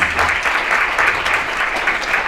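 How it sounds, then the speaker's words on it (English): Dense audience applause for candidates at a Lawrence city commission forum, a loud continuous wash of many hands clapping together, steady throughout with no speech. "Everybody give them a round of applause."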